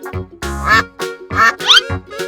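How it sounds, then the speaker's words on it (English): A cartoon duck quacks in a few short, bright, nasal bursts spread over a couple of seconds, loud and close, with no talking. "Duck."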